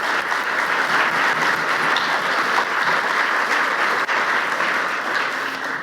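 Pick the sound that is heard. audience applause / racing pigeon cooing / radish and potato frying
audience applause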